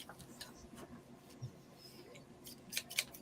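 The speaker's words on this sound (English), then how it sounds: "Let me see if I got a large pair of scissors or knife I can use on this thing." Large scissors cutting through a big sheet of paper, a few close sharp snips and crisp crunching bursts, loudest near the end, over quiet background with no talking.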